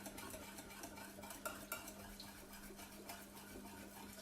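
Chia seeds being stirred into coconut cream, a soft continuous swishing with a few light clinks of a utensil against the bowl, fairly quiet and close with a low steady hum underneath.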